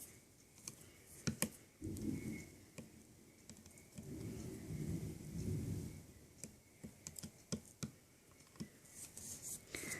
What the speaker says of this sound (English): we're having a super bad thunderstorm.